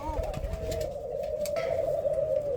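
A pigeon wearing a yellow leg band coos in a long, steady, close call, with faint handling noise behind it.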